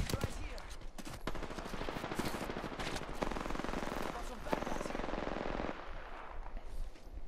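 Dense rapid gunfire fills a tense video game firefight, with bursts of automatic shots crackling almost continuously while players talk over the action.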